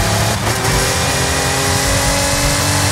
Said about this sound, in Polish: Dałem silnik standardowy, zostawiłem, tylko go trochę podrasowaliśmy, bo standardowy wolno jeździł, strasznie.